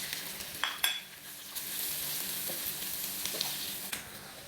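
Chopped garlic and onion fry in a pan for shrimp, giving a steady, fairly quiet sizzle with a couple of light scrapes and clinks as the pan is stirred.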